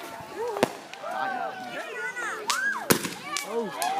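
Fireworks burst with several sharp cracks and pops among whistling, warbling crowd voices and chatter, the loudest bang landing near the end.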